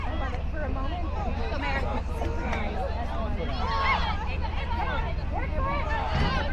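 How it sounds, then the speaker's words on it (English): A lively crowd at a girls' varsity high school soccer game between Westfield and Noblesville, a steady babble of many voices with cheers rising now and then, under low rumble. "Nice lively crowd here tonight."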